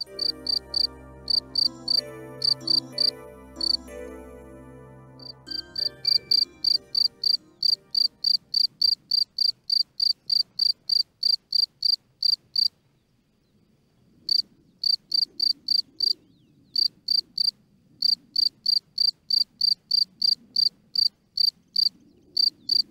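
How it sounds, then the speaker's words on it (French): A field cricket stridulates by rubbing its wings together, producing loud, regular high-pitched chirps in a steady rhythm with brief pauses, first over a fading low musical tone, then alone. "Cette vibration Amplifié par toute la surface de l'aile, produit la stridulation du grillon."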